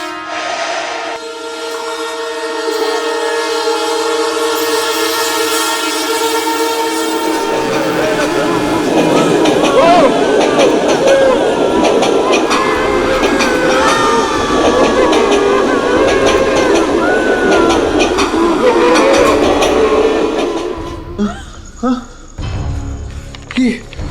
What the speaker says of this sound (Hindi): ये ट्रेन रुकी ही नहीं।